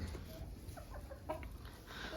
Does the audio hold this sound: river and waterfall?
no